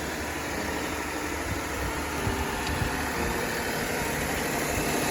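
A vehicle engine idles steadily and fairly quietly; the engine is still sound despite wear from winter. The low hum and faint mechanical whir hold an even level throughout, with no voices.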